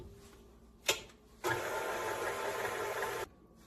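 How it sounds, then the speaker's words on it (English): An electric mixer beats half a cup of butter, whirring steadily for about two seconds after a brief clack, fairly quiet and alone with no talk. "add half a cup of butter to your mixer, and then just kind of beat that until light and fluffy"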